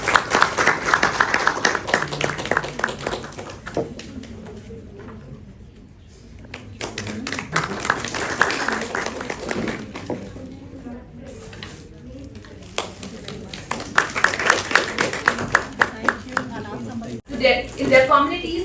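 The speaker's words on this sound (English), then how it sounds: "Let's have a huge round of applause." Audience applause at a ceremony honouring community and industry leaders, led by the Institute of Alternative Dispute Resolution: bursts of clapping rise and fall across the hall, with stretches of speech between them.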